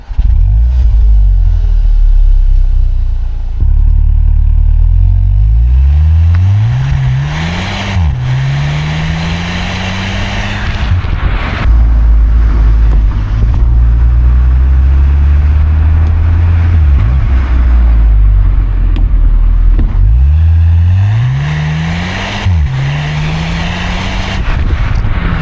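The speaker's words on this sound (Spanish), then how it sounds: "El ruido que te da el motor afuera no se nota tanto" A 2026 Skoda Octavia RS engine heard from outside, loud and near, idling low then revving up in repeated rising sweeps several times, a deep steady rumble between the revs.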